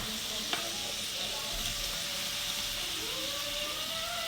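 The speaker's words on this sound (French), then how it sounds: "je vais faire revenir, continuer à faire revenir quelques secondes" A brick-pastry filling sautés in a pan with a continuous close sizzle, joined by faint stirring.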